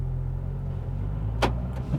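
A Renault Twingo II (2007–2014) locks its doors automatically as it drives off, a single quick mechanical clunk of the locks over a steady low engine hum, followed by a fainter click.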